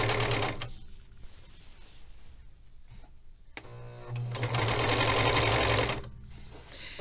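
A sewing machine stitches a narrow hem in thin, cheap fabric, running in two bursts: a steady whir near the start, a short pause, then a louder, faster stretch before it eases off.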